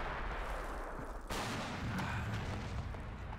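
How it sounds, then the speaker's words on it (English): Artillery barrage by German guns on Soviet positions near Moscow in a World War II strategy game: a sudden loud blast breaks in, then a steady roar of booming shellfire and rattling gunfire continues, with no voices. "the Germans are going to start off with a nice artillery barrage"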